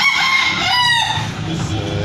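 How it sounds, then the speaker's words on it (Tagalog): A rooster on a rural farm crows, a loud, close call with a long drawn-out tonal cry that rises and then tails off into rough background noise. "may alagang manok dito"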